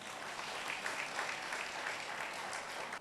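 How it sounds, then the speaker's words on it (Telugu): A church congregation claps together at the inauguration of a church in Thimmaraogudem. The clapping is dense and even, held for a few seconds and heard from some distance at low volume. "గట్టిగా చప్పట్లు కొట్టుకోండి,"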